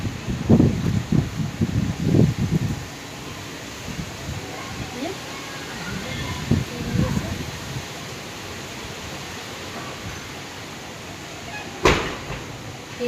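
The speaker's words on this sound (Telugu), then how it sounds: "ఈ వర్షం అనేది గాలి సౌండ్ మీరు వింటూ ఉండండి" A storm of rain and gusting wind makes a broad, steady hiss, with louder rustling bursts early on, a sharp knock near the end, and occasional voices in the background.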